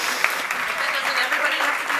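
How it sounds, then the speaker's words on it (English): An audience at a climate action and finance event applauds, a dense, steady wash of clapping that carries through the whole short moment. "please do come and give them a big round of applause"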